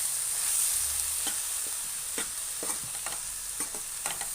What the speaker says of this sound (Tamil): நல்லா இதையும் சேர்த்து மிக்ஸ் பண்ணிக்கலாம்.